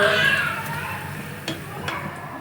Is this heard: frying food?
yes